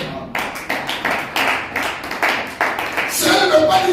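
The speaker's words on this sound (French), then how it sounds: "Acclamons le Seigneur" A church congregation claps in rhythm at a Wednesday service, a run of sharp, evenly spaced handclaps building into fuller applause, with talking mixed in.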